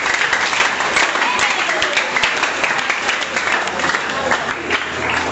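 An audience at a school debate between Comprehensive and St. Michael's College applauds, sustained loud clapping from many hands filling the room steadily for several seconds, with a few voices mixed into the crowd noise.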